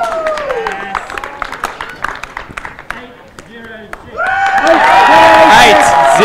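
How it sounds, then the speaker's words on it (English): An athletics championship crowd erupts into loud cheering and applause after a long jump, swelling from scattered noise into a sustained roar over the last two seconds, with a commentator talking over it. "The crowd is going nuts."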